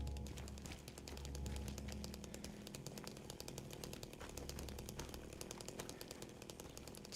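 A chainsaw revving in the horror video game Silent Hill 2, a steady buzzing engine drone with rapid rattling pulses, moderately near and sustained throughout, fairly faint overall.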